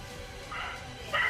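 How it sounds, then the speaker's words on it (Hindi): Dogs bark in a street at night, with two short, faint barks sounding from a distance against quiet background noise. "कुत्ते भौंक रहे हैं"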